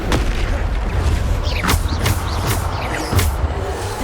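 Spell explosions in Hogwarts Legacy, a loud run of booming blasts and sharp cracks one after another, with shimmering magical swishes between impacts, close and dense throughout.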